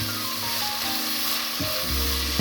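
Sliced onions with salt sauté in a pan for fish biryani, giving a steady close sizzle under a faint tonal hum, with a brief stir and clink near the end.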